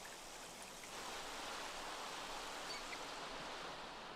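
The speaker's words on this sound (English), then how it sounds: "That rain is loud, isn't it?" Steady rain in the video game The Sims 4, a constant hissing wash of falling water that stays loud and even throughout, with no talk over it.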